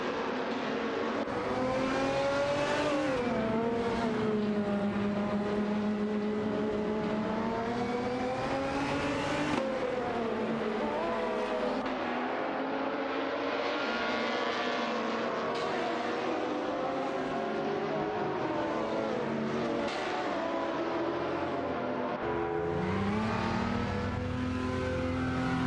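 High-pitched race car engines rev and accelerate continuously in a racing video game, with gliding pitch sweeps as gears change and several cars overlap, loud and unbroken throughout.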